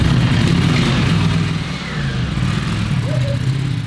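A motorcycle engine runs steadily close by, a loud, continuous low rumble that dips slightly midway and then holds at a constant level without clear revving.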